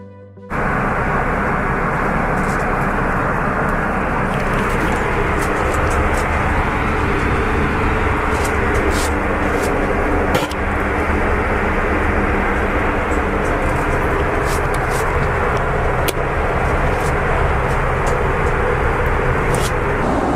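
Steady, loud cabin roar inside an American Airlines first-class section on a long Paris to Los Angeles flight, a continuous engine and airflow drone with no talking.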